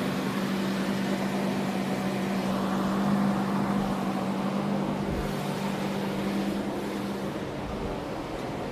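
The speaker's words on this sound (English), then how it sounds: "as we get the engine fired here and get it ready for first practice" A NASCAR Xfinity Series race car engine runs in a garage, a steady, loud drone with a constant low hum, broadband and unbroken.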